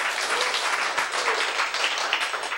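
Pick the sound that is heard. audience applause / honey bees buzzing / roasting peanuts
audience applause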